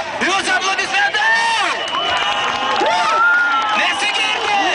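Crowd at a mini dirt bike stunt show in Kaunas, cheering, whistling and clapping loudly in a dense continuous roar, with an amplified announcer's voice carrying over it.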